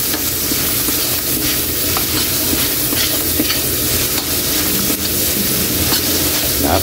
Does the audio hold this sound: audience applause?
no